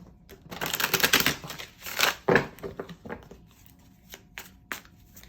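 Rapid papery riffling of cards being shuffled, in several bursts with brief pauses, close and fairly quiet, no talking.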